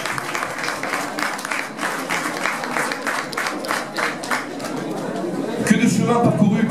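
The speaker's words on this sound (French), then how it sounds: "On peut déjà les applaudir pour cette belle réception." An audience claps steadily at an anniversary reception for a magazine in Beaune, France, the applause full and sustained before thinning near the end, when a voice and a bright chirping begin.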